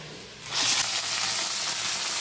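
Bottle gourd leaves laid one by one into hot mustard oil in a pan over lowered heat, setting off a steady close-up sizzle that swells sharply after a quiet start and holds as a bright, continuous hiss.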